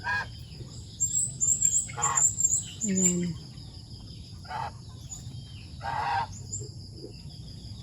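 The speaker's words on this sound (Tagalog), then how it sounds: "Nadapo na ang mga manok. Kasi nga gabi na guys." Chickens cluck and squawk in short bursts at night, a few calls close by with quiet pauses between them, and a voice says a word.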